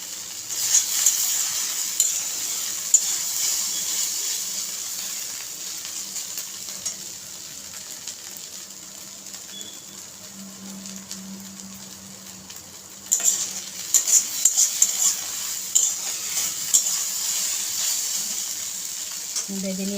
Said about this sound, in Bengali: দিয়ে দিলাম পাস্তা মশলাটাকেও আরও কিছুক্ষণ ম্যাগি আর আলুর সাথে ভেজে নেব।